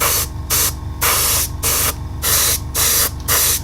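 Airbrush spraying paint on an Airfix 1/48 Hurricane model wing, loud hissing bursts in repeated short pulses with brief gaps between them, close to the mic.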